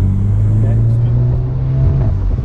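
A Mercedes-AMG car engine drones loud and steady from inside the cabin as its turbo spools, a rising hum with a faint whistle over a low rumble, while people talk.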